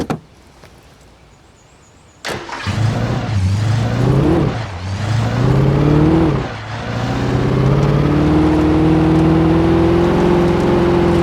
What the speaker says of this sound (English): muscle car.